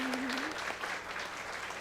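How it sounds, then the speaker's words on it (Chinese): A church congregation at a Mandarin Sunday worship service applauds to welcome new members. The clapping is soft and steady and fills the room at a moderate distance, with a brief tone sounding at the start. "我们还是用掌声来欢迎他们成为我们教会的一员"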